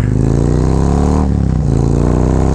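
A Harley-Davidson Road Glide with a Khrome Werks dual exhaust revs loudly and close, a deep throaty exhaust rising and dipping briefly before settling back to a rumbling idle.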